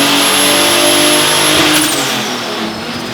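A turbocharged M30 engine in a BMW E34 revs hard on a dyno, with a loud, sustained high-pitched drone that rises and then drops away as the revs fall, and a turbo whine on top.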